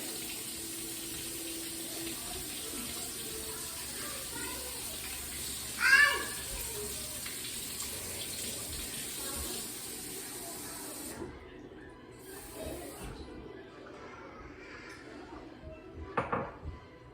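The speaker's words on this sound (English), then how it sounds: "So let me get some water in here." Tap water runs steadily into a container in a home kitchen while broth is being made, a continuous hissing stream with a brief clink partway through before it stops.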